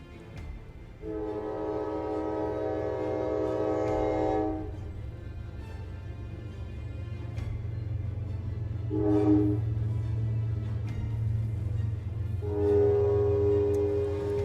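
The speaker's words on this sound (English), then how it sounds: "Here comes the train saying hello to us as well." A train horn sounds three times, a long blast, then a short one, then another long one, over the steady low rumble of a passing train heard at a moderate distance, with no talking.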